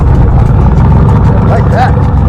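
A Chevy's engine rumbles loud and close at an outdoor car show, a deep steady throb running throughout while a voice speaks briefly over it.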